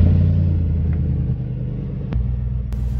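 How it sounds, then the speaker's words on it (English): Hummer H2 engine running at a steady idle nearby, a deep continuous rumble with a couple of brief clicks. "now I'm going to start my Hummer"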